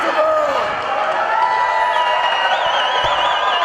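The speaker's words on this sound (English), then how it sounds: "The crowd is going bananas here, heavily behind Hannibal" A crowd at a live wrestling event cheers and roars loudly and continuously, with whoops and shouts rising over a dense, sustained wall of noise.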